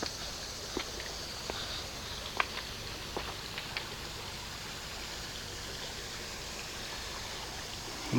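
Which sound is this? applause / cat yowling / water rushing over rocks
water rushing over rocks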